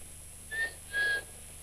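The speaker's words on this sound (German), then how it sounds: "Pfeifen? Verstehst du nicht?" A person gives two short, clear whistles as a signal, a brief note followed by a slightly longer one, fairly faint against a quiet background.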